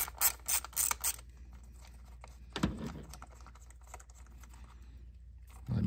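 A 10mm ratchet loosens an ignition coil bolt with short, faint bursts of rapid clicking, a quick rattle near the start and another at the end, close up with no voices.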